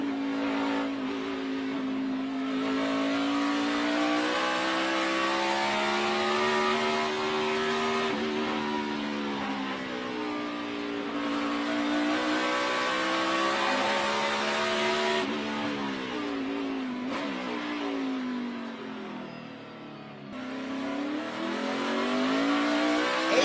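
A NASCAR Sprint Cup stock car engine roars loudly and continuously on a 2014 qualifying lap, its pitch climbing and dipping as it shifts and works through a fast section of the track, with no voices over it.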